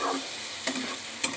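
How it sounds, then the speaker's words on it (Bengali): A vegetable curry with green chilli paste is stirred in a pan: two quick scraping strokes cut through a gentle background sizzle in a brief, close moment. "একটু নাড়াচাড়া করে নিই"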